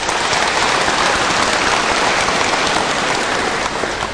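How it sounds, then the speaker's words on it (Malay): Dense, loud audience applause at an evening public forum in Kedah, Malaysia, a continuous even roar of many hands clapping with no gaps, close and filling the room. "kuat orang Kedah ni tepuk semangat dia malam ni"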